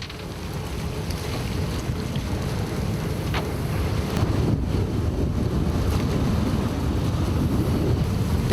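Strong wind buffeting the microphone over high, choppy waves at sea between Marado and Gapado islands off Jeju, recorded aboard a longline fishing boat; a loud, continuous roar of wind and water with no voices.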